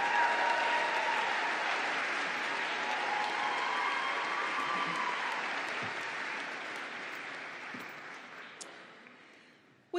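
At a fall 2023 college commencement ceremony, a large audience applauds the graduating seniors of the Sustainable Resources Management Department. The broad, sustained clapping fills a big hall and then gradually thins and fades toward silence.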